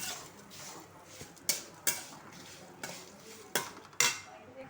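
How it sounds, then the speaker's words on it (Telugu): Fried tuber pieces are stirred in a frying pan, with a spatula scraping and clanking against the metal in sharp, irregular strokes over a low sizzle, close up and without speech. "అవన్నీ దీంట్లో వేయించుకోవాలి. చక్కగా కలుపుకోవాలి."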